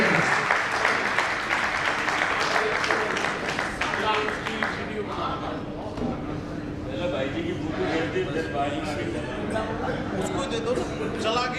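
Applause from an audience in Jaipur: a broad, steady wash of clapping and crowd noise lasting the whole stretch, with some voices mixed in.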